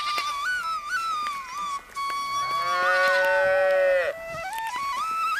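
Cows moo loudly and close, a long drawn, wavering low call sliding in pitch, joined by overlapping farm-animal calls in a cartoon countryside scene with a herder taking cows and goats to the forest.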